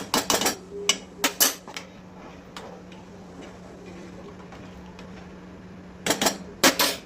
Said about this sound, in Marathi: एक चमचा आहे ना, आपण ह्याच्यात साखर पण टाकूया.